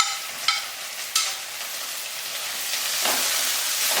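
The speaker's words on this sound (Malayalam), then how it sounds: "ഇനി നമുക്ക് തക്കാളി ഒന്ന് പൊടിയായി അരിഞ്ഞത് ഇട്ട് കൊടുത്ത് വഴറ്റാം" Finely chopped tomatoes hit a hot pan for pav bhaji, a few spatula knocks and then a rising, steady sizzle of frying that grows louder toward the end, close and without speech.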